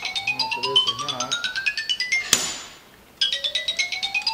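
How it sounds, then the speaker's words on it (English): A phone rings with an incoming call, its repeating electronic ringtone pulsing in rapid bursts, briefly cut by a sharp click and a pause, then resuming, heard indoors in a workshop during a front axle leak repair. "Oh, we got a phone call coming."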